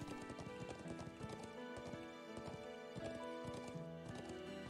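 Horses gallop in the video game Trails of Cold Steel IV, a steady run of clip-clop hoofbeats with a neigh, heard close and clear with no talk.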